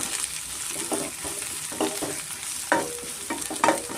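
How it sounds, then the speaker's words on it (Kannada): Thick-cut mushrooms fry in oil with steady sizzling, broken by repeated scraping and stirring strokes of a spoon in the pan, close and fairly loud. "ಮಶ್ರೂಮ್ ಚೆನ್ನಾಗಿ ಎಣ್ಣೆನಲ್ಲಿ ಫ್ರೈ ಆಗಬೇಕು"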